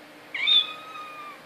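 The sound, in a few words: cat meowing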